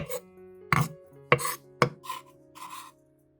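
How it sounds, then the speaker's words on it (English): Several sharp knife strikes on a cutting board, irregularly spaced, with scraping sounds in between, close up and otherwise quiet. "I finished chopping the garlic"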